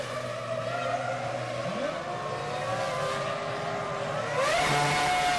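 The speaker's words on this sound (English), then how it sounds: "give it some revs, Michael. Out he goes" A Ferrari Formula One car at the 2000 French Grand Prix revs hard leaving its pit stop, a loud high engine whine rising in pitch through gear changes over crowd and track noise.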